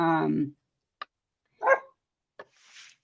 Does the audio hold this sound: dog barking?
yes